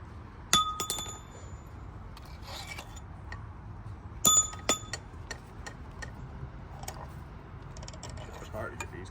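Old, discarded head bolts from a donor LS engine clink together as they are handled, with two sharp metallic chinks standing out over a quiet, noisy background and a few lighter ticks scattered between them.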